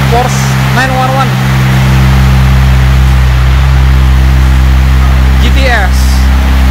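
Porsche 911 GTS engine running with a steady, loud low rumble, parked among supercars in a private garage, while people talk over it.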